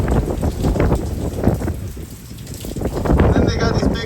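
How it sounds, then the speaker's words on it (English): Wind and rain from Hurricane Francine in Prairieville, with a broad, rushing wash of noise that swells and eases in gusts and stays fairly loud and close throughout. "and just some wind and some rain"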